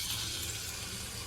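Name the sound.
pouring water from spice bowl into arbi curry pan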